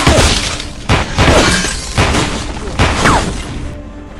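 A gunfight between a driver and a killer in an action film starring a famous actor. Loud bangs and crashes burst out every second or so, with a voice talking over them.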